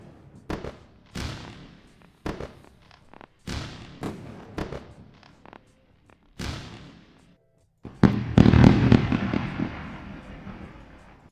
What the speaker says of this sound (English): That one deserves fireworks as well.